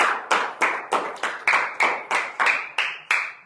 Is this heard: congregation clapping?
yes